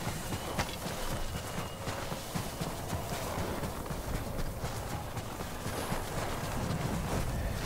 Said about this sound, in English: Usually the horse can always get to us.